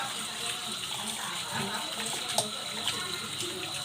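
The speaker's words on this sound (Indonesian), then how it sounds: "Setelah itu kita cuci alat menggunakan air mengalir." Tap water runs steadily while lab equipment is rinsed under it, a continuous splashing hiss with occasional small clinks and spatters, fairly close and moderate in level.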